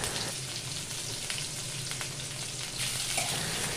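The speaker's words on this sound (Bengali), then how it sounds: "কড়াতে তেল গরম হলে তাতে রসুন কুচি, পেঁয়াজ কুচি দিয়ে দিলাম" Chopped garlic and onion frying in hot oil in a wok, a steady dense sizzle with faint scraping stirs, close and continuous with no talking.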